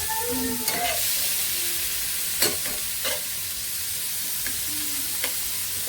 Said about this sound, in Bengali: এখানে মাংসটা ভাজা হচ্ছে যে বাটার দিয়ে দিয়েছে